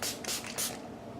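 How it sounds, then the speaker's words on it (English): e.l.f. Mist and Set setting spray misted from a pump bottle, three quick close hissing bursts in a row with no talking. "Spray with a setting spray."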